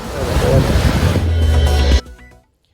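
Rough, surging sea waves at Puducherry crash and roar loudly and continuously, close by, with wind buffeting the microphone, then the sound cuts off abruptly near the end.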